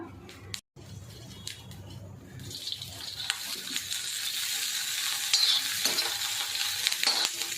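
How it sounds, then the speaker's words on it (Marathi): Green chillies fry in a little oil in a pan, giving a steady, close sizzle that swells after a brief pause and keeps crackling evenly to the end. "आता आपण याच्यामध्ये थोडंसं तेल टाकूया, जास्त नाही टाकायचं"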